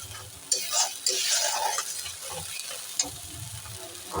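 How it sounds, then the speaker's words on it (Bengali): Spices for a Bengali doi katla fish curry sauté in a hot pan, giving a lively sizzle with a few clinks and scrapes from stirring utensils. "দিয়ে ভালো করে কষিয়ে নেব দেখো"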